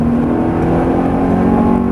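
A Ferrari picks up power on the Silverstone circuit, its engine note rising in a steady, continuous roar that stays loud and close throughout.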